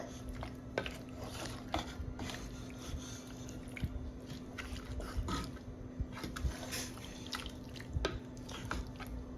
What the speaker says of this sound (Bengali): সব মশলাগুলো দিয়ে এখন একটু নাড়া নিচ্ছি